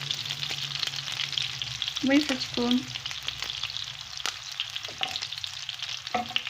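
Steady sizzling of eggplant frying in a pan until crisp, with a few utensil scrapes and a brief spoken word partway through.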